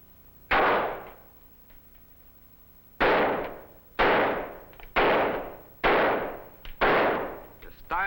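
Pistol shots fired in quick succession, one sharp loud crack followed after a pause by five more at roughly one-second intervals, each ringing with a short decaying echo; no one talks.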